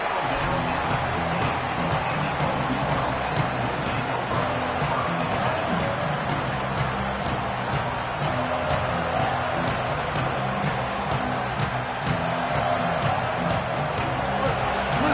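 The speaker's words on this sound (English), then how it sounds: "Listen to the crowd energy here in the early going." Crowd noise from a stadium in the College Football 27 video game, with Michigan Wolverines kicking off. It is a constant, moderately loud murmur of cheering that rumbles beneath ongoing commentary.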